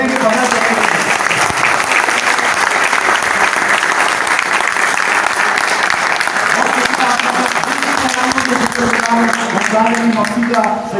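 Sustained loud applause from a gathered audience at a political meeting announcing members joining a labour union, a dense steady clapping that continues for several seconds with crowd voices mixed in.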